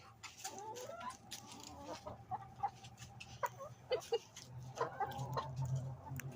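Backyard hens cluck and murmur while being fed cabbage, with scattered short calls over a steady low outdoor hum. The sound is faint and distant and carries no speech.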